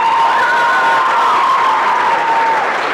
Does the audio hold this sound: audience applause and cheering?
yes